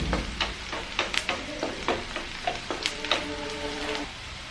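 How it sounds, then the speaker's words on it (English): Onions sizzle in hot oil while being fried brown for a tin fish curry, with a steady crackle under repeated scraping stir strokes of a spoon against the pan, close by and without talking. "We will fry it till the onions turns in brown color."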